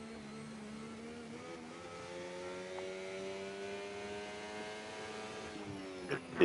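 A NASCAR-style race car engine in a racing video game revs with a steady tonal whine that slowly climbs in pitch, then gives a short louder burst at the very end.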